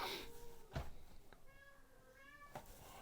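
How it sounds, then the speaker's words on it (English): A domestic cat meows and cries in drawn-out, wavering calls, with a few short bursts between them, fairly close over faint room noise. "was this cat crying?"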